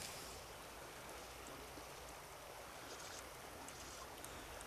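A small stretch of the Michigan River in Colorado flows with a steady, faint, even wash of running water, with a few light splashes and no voices.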